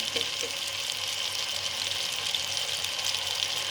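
Koftas dropped into a cooking mixture of yogurt, ground tomato and browned onion, giving a steady, close hiss and sizzle that runs unbroken throughout with no voices.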